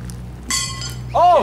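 Horseshoe striking the metal stake in a backyard horseshoe toss, a single bright metallic clink ringing out near the end, with a softer rattle just before and people talking nearby.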